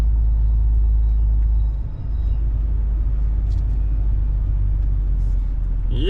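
A car drives slowly, its engine a steady, loud low rumble inside the cabin with only a brief dip in level, no talking.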